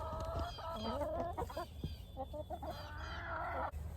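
Chickens cluck and squawk excitedly on a pasture shared with cattle, several birds calling in quick bursts at close range with no talk.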